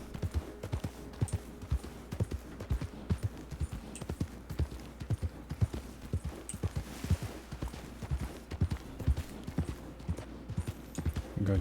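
Horse hooves clip-clop at a steady walking rhythm while riding in Red Dead Redemption 2 roleplay, close and continuous with a faint game ambience underneath.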